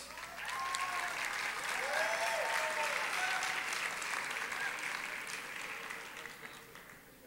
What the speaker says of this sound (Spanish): a quienes también les pido un fuerte aplauso